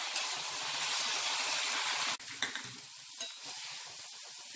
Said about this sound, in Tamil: கருவேப்பிலை, பெரண்டை இது எல்லாமே வந்து எண்ணெயில் வதக்கிட்டு இருக்காங்க.